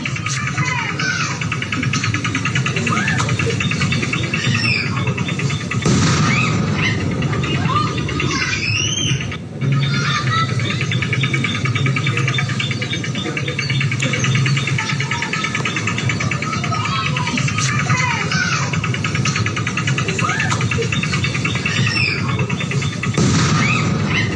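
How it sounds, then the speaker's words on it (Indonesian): Repeated deep booms from explosive materials being destroyed in Garut, West Java, heard from 2 to 3 km away. The blasts are dull and distant, buried in steady broadband noise with faint voices in the background. "kita dengarkan suara ledakan beberapa kali yang terdengar dari lokasi"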